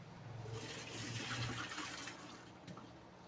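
Pot water from boiled beet tortellini is poured off and drained, a steady rushing splash of liquid that swells and then eases over a few seconds, with no talking.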